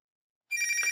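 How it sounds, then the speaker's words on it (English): A telephone bell on a central office simulator starts ringing halfway through, a sustained bright metallic ring that stays loud to the end. "Now the other one's ringing."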